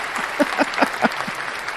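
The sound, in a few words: applause sound effect played on livestream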